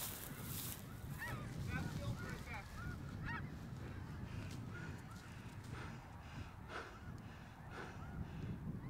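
Snow geese honk repeatedly in a flock during a bow hunt outdoors, a steady chorus of overlapping calls over wind noise, with occasional voices of hunters talking.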